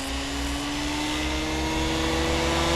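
The electric motor of a Goblin 500 RC helicopter runs with a loud, steady whine and rotor whoosh, close by and continuous, with no talk.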